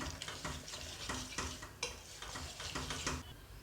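Rhythmic scraping of a spoon stirring thick melted chocolate in a bowl, repeated strokes about twice a second, close and quiet.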